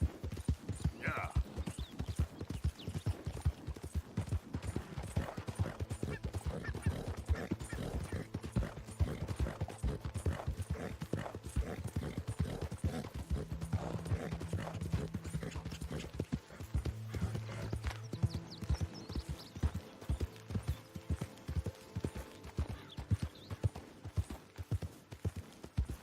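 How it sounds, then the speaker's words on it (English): Horse hooves clip-clop steadily through the Red Dead Redemption 2 video game, a brisk repeated rhythm close by under game music, with voices talking over parts of it. "That's a fine horse you got there."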